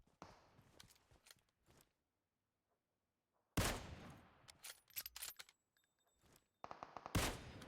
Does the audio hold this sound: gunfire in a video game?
yes